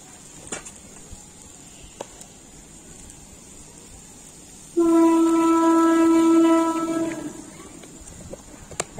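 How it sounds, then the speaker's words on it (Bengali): A train passes nearby a home kitchen where khichuri is being cooked, its horn sounding a loud sustained multi-tone blast for a couple of seconds over quiet background noise before fading away. "একটা ট্রেন আসছে আমু।"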